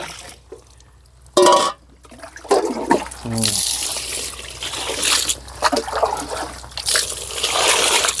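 Rice rinsed by hand in water at home, sloshing and trickling close by with splashes and a pouring run, while someone talks over parts of it.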